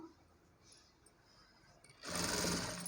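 A sewing machine stitches a fall onto a saree, starting abruptly after a quiet stretch and running as a loud, steady whir to the end.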